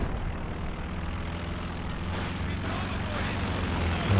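A bomber aircraft flies in during a Company of Heroes 2 match, a steady low propeller-engine drone that holds loud and even throughout, with faint battle noise and possible game voice underneath.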